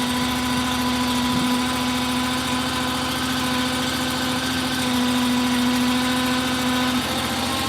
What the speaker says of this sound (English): The wood splitter is not warmed up, so we're going to have to kind of take it slow before the engine warms up a little bit.